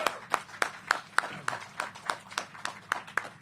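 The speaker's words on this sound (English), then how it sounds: "that deserves another round of applause" Clapping from the audience at an affordable senior housing ribbon cutting, a steady run of single, evenly spaced claps, fairly faint and close, with no talk over it.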